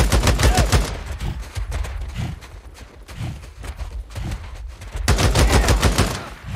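Rapid bursts of automatic gunfire ring out in the video game Days Gone, loud close volleys at the start and end with scattered shots in between.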